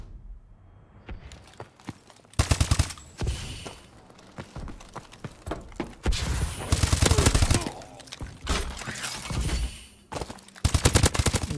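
Sentry gun in a video game firing in repeated rapid bursts, loud clattering volleys broken by brief pauses and quieter gaps with scattered clicks and steps.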